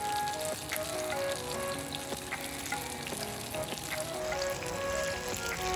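Banana fritters (pazham pori) deep-frying in oil, a dense bubbling sizzle with scattered pops and crackles that continues steadily, heard close at moderate level.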